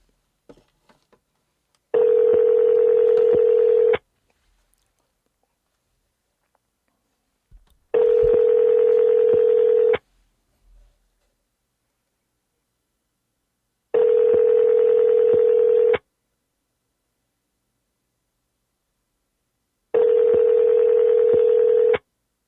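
A telephone ringback tone sounds while placing a cold call, four long even tone bursts spaced at regular intervals with silence between, loud and close.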